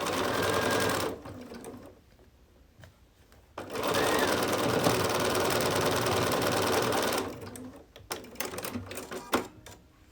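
A sewing machine stitches a seam across a scrappy sampler quilt block in two loud, steady bursts, the first about a second long and the second longer, separated by quiet handling and followed by soft clicks.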